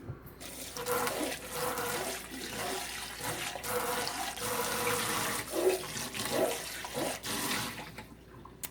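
Lye water, mixed with sodium lactate, pours from a container into a coconut milk soap batter for blueberry soap. The liquid splashes and gurgles in an irregular way, quiet and close, with no talking over it.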